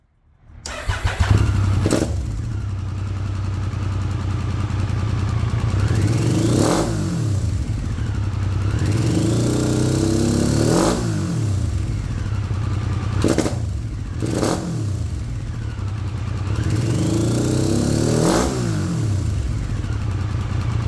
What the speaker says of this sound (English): I was intrigued by the triple-cylinder 900 engine, and I really fell in love with its sound.